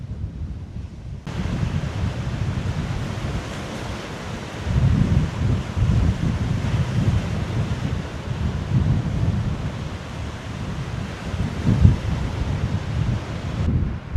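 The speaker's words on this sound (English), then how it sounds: "Waves begin to build, and nothing rests" Strong wind of roughly twenty miles per hour buffets the microphone on a rough day by the sea in Denmark, with a continuous roar of surf and waves beneath, loud and unbroken throughout.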